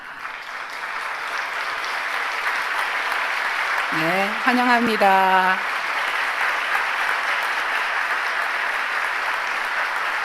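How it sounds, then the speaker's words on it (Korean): A church congregation at a Friday all-night worship service applauds steadily to welcome a guest, a continuous broadband clapping wash throughout, with someone briefly speaking over it midway. "자리에서 일어나실 때 따뜻한 박수로 환영해 주시기 바랍니다."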